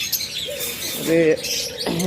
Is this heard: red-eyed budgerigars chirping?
yes